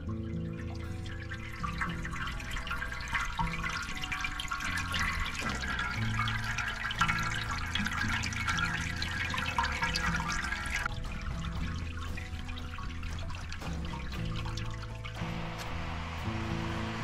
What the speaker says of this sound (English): When you are done pouring the water and ashes inside the basket, allow it to drip.